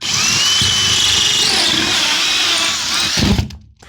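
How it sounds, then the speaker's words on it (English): A 45 mm hole saw on a power drill cuts a power point hole in a wall beside a window, a loud steady high-pitched grinding whine that runs for over three seconds before stopping abruptly with a thud. "what I'm gonna do here is just use a 45 mil hole saw"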